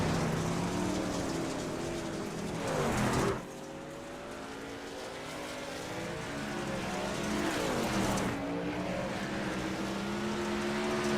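Dirt track race trucks at Lernerville, including a battered number 91 truck, roaring past in loud engine passes with rising and falling whine, two sharp drop-offs as vehicles go by, and a constant crowd-and-engine wash.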